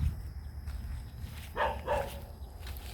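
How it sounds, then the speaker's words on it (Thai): A dog barks twice in close succession somewhere on a countryside farm, the short barks faint and distant above constant low background noise. "เห่าอะไรครับ"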